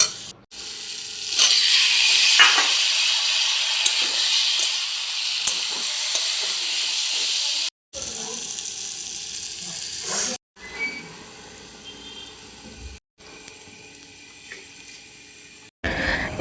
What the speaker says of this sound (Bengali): এখানে আলু টমেটো দিয়ে কাতল মাছের পাতলা ঝোল করা হচ্ছে।